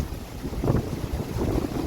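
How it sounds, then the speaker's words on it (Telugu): Strong, gusty wind blows during a heavy thunderstorm downpour near the Kailasagiri and Simhachalam hills in Visakhapatnam, buffeting the microphone in a brief, low rumbling surge with no speech. "గాలి కూడా బాగా వేస్తుంది"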